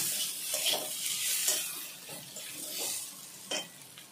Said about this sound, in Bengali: আলু আর পেঁয়াজ ওইগুলো একসাথে ভেজে নেব আরো কিছুক্ষণের জন্য